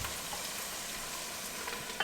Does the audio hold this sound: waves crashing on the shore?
no